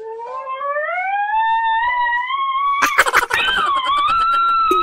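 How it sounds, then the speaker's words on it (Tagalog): A loud wailing ambulance siren rises steadily in pitch, is briefly broken by a burst of noise, then the wail resumes. "Narinig sila ng wang-wang na ambulansya."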